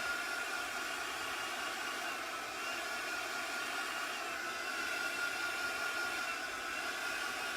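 A heat gun runs continuously with a steady, even airy whoosh like a hair dryer, moderately loud and unchanging throughout, with no one speaking.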